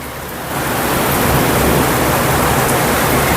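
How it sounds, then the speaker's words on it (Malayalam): Torrential rain in the UAE roars as a broad, unbroken wash of noise that swells after a brief quieter start and then holds loud and close. "ഭയങ്കര മഴയാണ് ഇവിടെ പെയ്തുകൊണ്ടിരിക്കുന്നത്"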